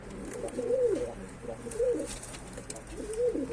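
Pigeons coo close by in three soft, rolling calls at a steady pace over a faint low background hum.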